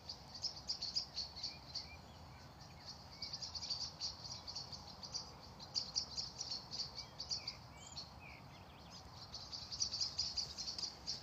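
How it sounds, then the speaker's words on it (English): At dusk, several kinds of birds chirp faintly and intermittently over a steady high insect trill in the background, a quiet outdoor evening scene. "You can hear the last chirping of a few different kinds of birds."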